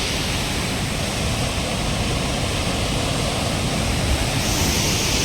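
Continuous rushing roar of the Perunthenaruvi waterfall stream in Kerala, a broad steady wash of water close by with no voices and no pauses.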